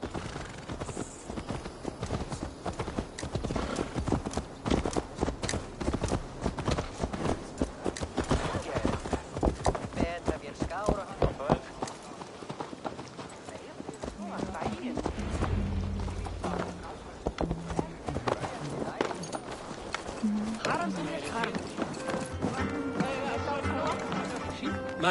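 Steady horse hooves clip-clop through most of the stretch in Assassin's Creed Valhalla, mixed with game music and ambient effects, with occasional voices in the background.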